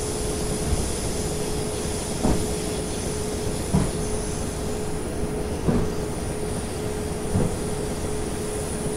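Class 455 electric train running in Train Simulator 2018 on the Portsmouth Direct Line, a steady rumbling drone with a constant whine and periodic soft rail-joint thumps every second or two, no voices.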